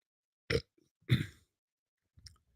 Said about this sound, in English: sorry, I got a burp here.